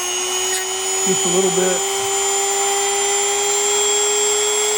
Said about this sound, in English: I like to use the Dremel tool with an abrasive disc wheel on it